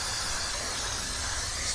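Brake cleaner sprays in one loud, continuous hiss onto the brake area of a CFMOTO 450CL-C motorcycle, close up and uninterrupted, with no talking.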